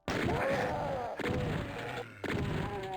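Gunners firing in the Doom map Dystopia, Map05 of a video game, a dense run of loud, close, crashing shots across three seconds, with two brief dips before the firing resumes.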